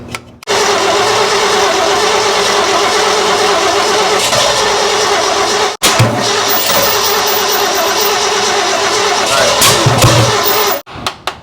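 A 1970 Ford engine that sat parked for 22 years cranks steadily for several seconds, stops briefly, then cranks again in a long, loud, close run before cutting off.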